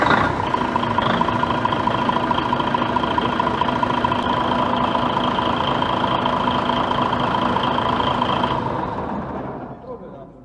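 A rebuilt DAF XF95 truck diesel engine with 1.8 million km idles loudly and steadily at close range, a constant low rumble with a mechanical whine, then fades out in the last two seconds.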